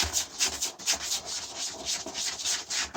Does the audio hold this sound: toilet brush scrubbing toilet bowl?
yes